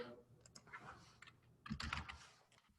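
A computer keyboard typed on in short bursts, soft close-up key clicks spaced irregularly over a quiet background.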